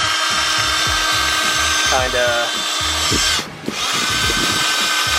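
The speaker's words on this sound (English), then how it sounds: "after just that little bit of drilling, it's already way shinier" A power drill spins a wire brush attachment against engine-bay parts, a loud continuous whir with grinding scrape that briefly dips and restarts, while someone talks over it.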